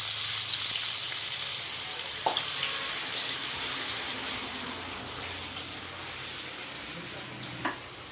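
Potatoes fry in hot oil with a loud, steady hiss, a rush of water going in and a couple of clinks from a utensil, close by and without voices.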